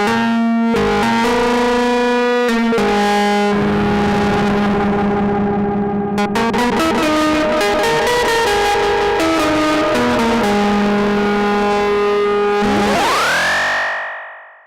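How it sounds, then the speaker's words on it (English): Roland SE-02 analogue synth module tones warped by a tape-style delay, sustained notes wobbling and smearing in pitch, ending in a rising swoop that fades out. "you can create a whole bunch of wacky time, pitching, tape delay style kind of sounds"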